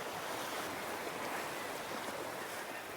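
Sea waves splashing against a rocky shore at St Abbs, a steady broad wash of surf and spray with no distinct breaks, moderately loud and continuous.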